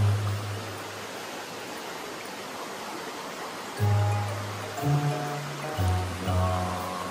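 A small mountain stream runs steadily as broadband rushing water, close and continuous, with a low tonal hum entering partway through.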